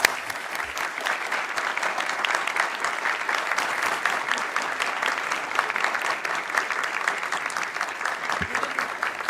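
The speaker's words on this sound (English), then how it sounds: "Let's have another round of applause." Sustained applause from an audience at the close of a talk, many hands clapping in a dense, steady roar that holds at a constant moderate-to-loud level throughout.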